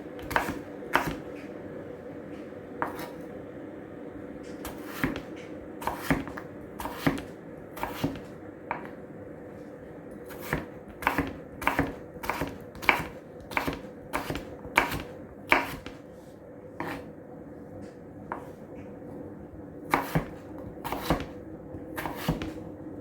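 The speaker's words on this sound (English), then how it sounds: "And then I'm just going to cut them into little" Knife chopping potatoes into small cubes on a cutting board, a long run of crisp, close taps, some in quick bursts and some spaced out, with no talking.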